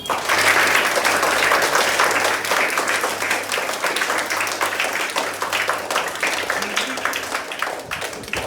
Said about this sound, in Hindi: तो सबसे पहले आप सभी बच्चे अपने लिए ताली बजा दीजिए